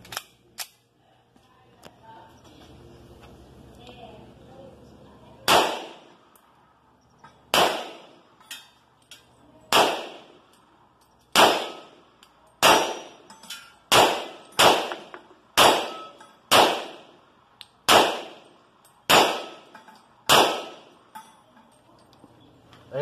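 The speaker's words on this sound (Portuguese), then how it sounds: "E vamos aos disparos." Shots from a Beretta 96 A1 .40 S&W pistol ring out one after another, each a sharp crack with a metallic ring of steel targets, roughly a second apart after a quiet start.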